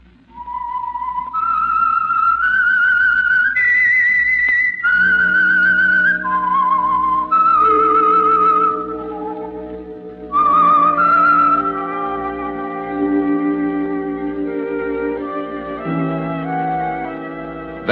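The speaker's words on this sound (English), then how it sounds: "That whistle is your signal for the Signal Oil program, The Whistler." Whistled melody serving as the theme of The Whistler radio drama, a clear solo tune of rising and falling notes that later continues over sustained orchestral music.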